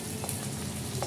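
Chopped chilli and capsicum go into a hot frying pan, giving a steady, even sizzle with faint crackles throughout.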